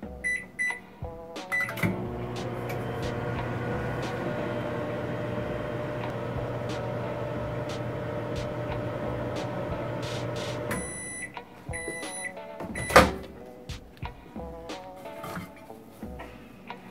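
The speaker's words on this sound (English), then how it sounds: "And we're gonna throw one of these in the microwave so you can see how easy it is to do it." Microwave oven heating a reusable hand warmer, a steady low hum running for about nine seconds, bracketed by door clicks and short electronic beeps before and after.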